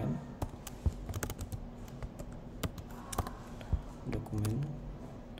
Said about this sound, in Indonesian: Pertama kita ketikkan dokumen.